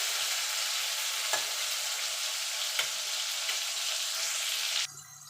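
Tomatoes and onion fry in a pan with a steady, bright sizzle and a few soft stirring clicks. The sizzle cuts off abruptly near the end. No one speaks.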